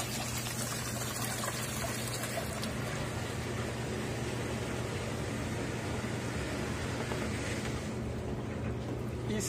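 A twin tub washing machine spins while tap water runs into it as a rinse, giving a steady, loud whirring hum mixed with rushing water throughout.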